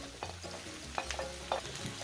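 Squash pieces go into a pan of sizzling pinakbet vegetables and are stirred, giving a steady close-up fry with scraping stir strokes and soft clinks, with no voices.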